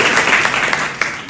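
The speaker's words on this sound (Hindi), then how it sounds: "सब लोग इनके लिए ताली बजाइए।" An audience at a coaching institute in Motihari bursts into brief, loud applause, a dense patter of hands that stays strong throughout.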